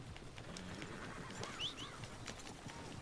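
Horse hooves in a PS4 video game clip-clop steadily through a busy outdoor scene, with a short horse whinny rising midway over a muffled background.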